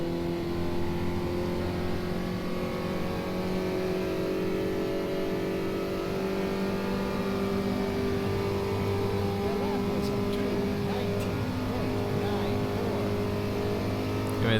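A race car engine drones and shifts pitch, revving and easing off as it slows under braking into the first corner, a steady mechanical roar from an in-game car in rFactor 2.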